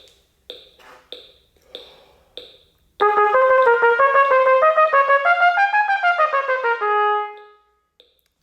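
Four metronome clicks count in, then a trumpet plays a rapid tongued upper-register exercise, short articulated notes climbing and falling before a held final note, close and loud.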